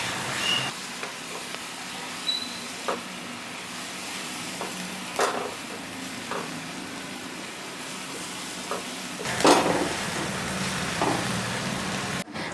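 Ginger and garlic paste sizzling in a pan over medium-high heat, a steady soft frying hiss with occasional sharper clinks and stirring scrapes, no talking.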